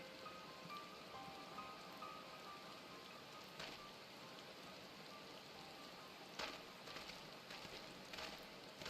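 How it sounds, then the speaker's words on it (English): Steady rain falls across an outdoor area in Final Fantasy XIV, a soft, even hiss with a few brief louder bursts and no voices. "You're out here staying in the rain."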